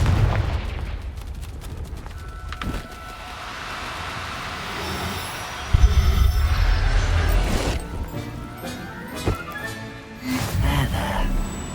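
Confringo fire spells detonate in Hogwarts Legacy, loud booming blasts with sharp cracks, one big burst midway and another near the end over clanking game ambience.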